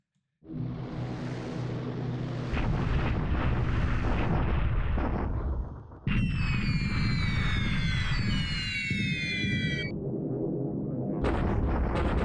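Bombing explosions in the World War II strategy game War in the Pacific, a dense, loud roar of blasts and rumbling bursts filling the whole stretch, with a whistling, falling tone partway through and a brief dip before the barrage resumes.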